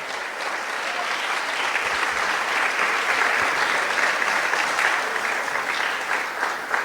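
Steady, dense applause from a large church congregation honoring its King, a loud continuous wash of many hands clapping without a break.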